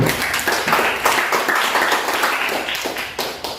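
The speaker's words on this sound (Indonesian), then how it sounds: "Beri tepuk tangannya dulu ya" A classroom of students claps for a group after its answers, a short burst of close, uneven clapping that tapers off toward the end.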